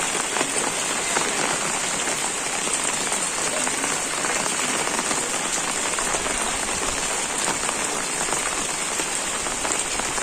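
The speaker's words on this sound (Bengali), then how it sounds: "বৃষ্টির মধ্যে ভিজা ভিজায় ফুল তুলতেছে" Steady rain pours down in a wetland village on a rainy morning, a dense, constant hiss of drops hitting surfaces, loud and even throughout with no voices.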